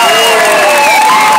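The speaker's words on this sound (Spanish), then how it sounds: "Si ella continúa, regálame aplausos." Audience applause and cheering at a live contest show, a steady, dense wash of clapping with crowd noise and a tonal sound running through it, fairly loud throughout.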